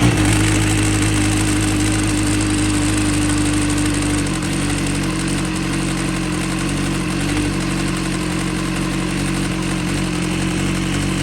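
A BMW S1000RR sport motorcycle idles steadily after a cold start, its engine loud and close with a constant low rumble and no voices.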